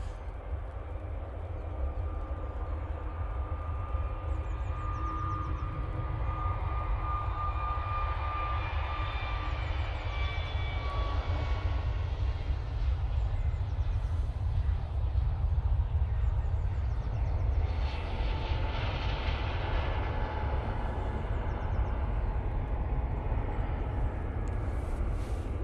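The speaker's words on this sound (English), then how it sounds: "EJ A321 Neo now on the roll. This is off to Tenerife." An EJ Airbus A321neo on its takeoff roll at Manchester Airport, bound for Tenerife, gives a loud, sustained low engine roar with faint rising whines above it, continuous and without speech.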